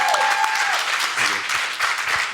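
Dense audience applause at a UN Solutions Summit fills a hall for a speaker, steady and close, with a brief tonal whine at the start.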